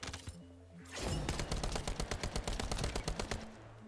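Rapid automatic gunfire from a first-person shooter, The First Descendant, with a fast steady burst of loud, closely spaced shots lasting about three seconds after a short lull of game music.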